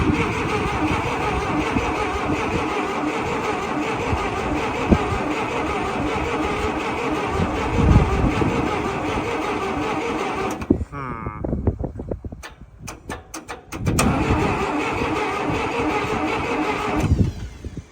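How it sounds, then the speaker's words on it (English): Massey Ferguson 180LP tractor, sitting unused for 35 years, cranking loud and steady with a brief catch of firing, then the starter cuts out and resumes after a pause. "Fired for a second there."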